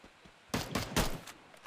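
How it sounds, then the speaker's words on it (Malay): A rifle fires in a Free Fire esports scrim match, a few short bursts of shots at moderate level over quiet game ambience. "membuat tembakan dengan menggunakan parafonnya situ"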